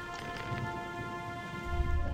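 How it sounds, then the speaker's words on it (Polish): Steady rain falls in the video game Gothic 2, a continuous soft hiss of drops that swells slightly with a low rumble toward the end, with no talking. "Ale deszcz też trochę dodaje tutaj klimatu, musicie przyznać."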